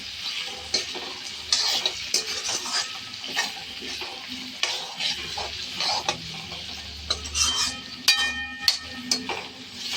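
Chopped tomatoes fry on high heat for tomato rice, with a continuous close sizzle broken by repeated scraping and clinking as a spoon stirs the pan.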